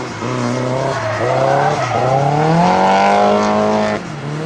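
Drift car in a NOPI qualifier competition run at Desoto, engine revving hard with rising pitch as it accelerates and tires squeal continuously, loud and close for about four seconds before easing off.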